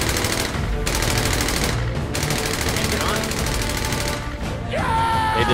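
Rapid automatic gunfire from Halo Reach rattles on nearly without pause over busy game sounds, closing with a rising whine. Excited players talk over it.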